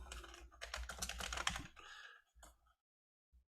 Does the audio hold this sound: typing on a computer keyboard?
yes